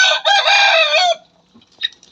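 An Indian game (shamo) hen lets out one loud, drawn-out call lasting about a second, close by, followed by a faint short cluck.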